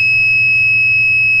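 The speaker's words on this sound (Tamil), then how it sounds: "இப்போ அலாரம் வந்து அடிச்சுட்டே இருக்குது" An Arduino overheating alarm buzzer sounds a continuous piercing electronic tone, loud and steady throughout, over a faint low hum.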